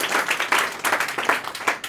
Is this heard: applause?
yes